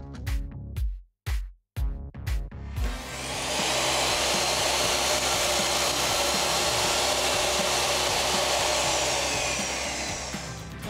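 A power saw is switched on and cuts pre-marked wood for a coffee table. A few knocks and handling noises come first, then a loud steady whining roar holds to the end.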